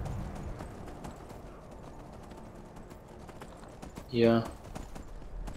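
Horse hooves clip-clopping on a stone path while riding in Skyrim, a steady close rhythmic trot under quiet game music, with a brief neigh partway through and someone speaking German over it.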